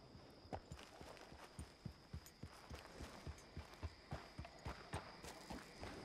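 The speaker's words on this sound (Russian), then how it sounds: "Так, лошадь нас доставила." A horse's hooves clip-clop at a steady walking pace in Red Dead Redemption 2, a regular run of soft thuds sitting in the foreground over a constant game ambience.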